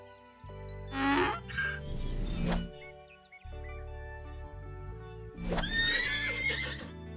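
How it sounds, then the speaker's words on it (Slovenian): A farm donkey brays twice in loud, rasping, see-sawing calls over a bouncy children's music backing track. "Osel."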